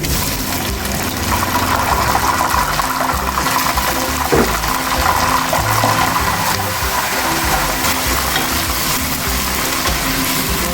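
Beef pieces dropped into a pot of golden brown fried onions for nihari, giving a steady loud sizzling and bubbling frying noise with a brief clatter partway through and no speech.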